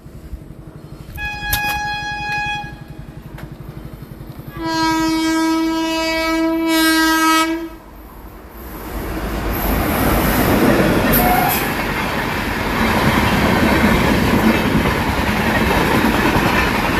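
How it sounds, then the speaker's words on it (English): A train nears at Bhimbetka, its horn blowing in several sustained tones, before the cars rush past close by in a loud continuous roar with rhythmic rattling of wheels on rails. "Oh, there's a train coming."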